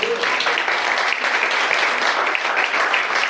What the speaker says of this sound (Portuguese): Você pode aplaudir Jesus para ele comigo?